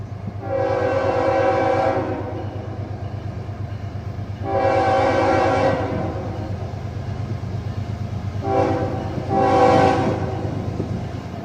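An empty coal train, locomotive 3401, rumbles steadily close by while its K5HL horn sounds three loud blasts, the last broken into two short toots.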